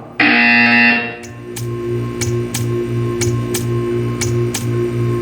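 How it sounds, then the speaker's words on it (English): A loud electronic buzzer in the Portal 2 video game sounds for about a second and then cuts off, followed by a steady mechanical ticking and a low pulsing hum, with no speech. "You will hear a buzzer."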